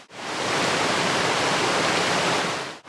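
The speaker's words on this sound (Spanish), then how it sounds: "Y mirar por aquí la diferencia de caudal que tiene el río Palancia" The Palancia river flows with a steady, broadband rush of water, loud and constant from start to finish, with nothing else heard.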